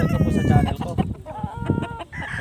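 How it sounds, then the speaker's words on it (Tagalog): Chickens and roosters cluck and squawk in a busy, overlapping chorus nearby, with a rooster's crow rising among them. "Makahawak man lang tayo ng mga gandang manok"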